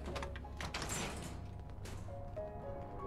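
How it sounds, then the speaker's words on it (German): Door opening in the Fallout 76 video game, a mechanical sliding whoosh and thump followed by soft tonal chimes, heard over a low background hum. "Geh du mal hoch und lass mal die Tür offen."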